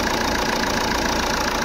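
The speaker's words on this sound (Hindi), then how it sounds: "इंजन स्टार्ट करके रखा है" A Jeep Compass engine idles with a new alternator pulley fitted, giving a steady, dense whirring hum close by, even and continuous without knocking bursts or talk.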